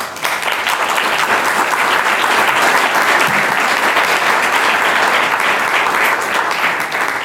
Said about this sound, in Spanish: Agradecemos con un nuevo aplauso esta clase magistral.